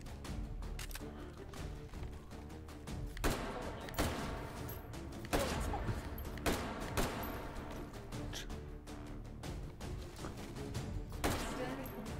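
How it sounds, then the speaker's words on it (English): Rapid bursts of gunfire ring out in a shooting game, with repeated sharp shots and metallic hits on a steel target echoing through a dense, busy mix, while a voice talks over them at times. "Oh, that ricochet."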